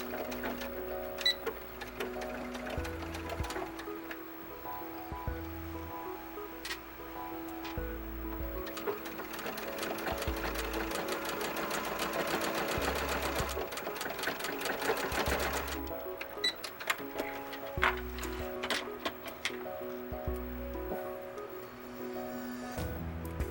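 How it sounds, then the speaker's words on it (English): A domestic sewing machine stitches a knit sleeve onto a small doll turtleneck shirt, its steady rapid needle clatter running close and loud, speeding up in the middle, with no voice over it. "all you're going to do is sew the sleeve to the shirt by matching the center of the sleeve to the shoulder seam"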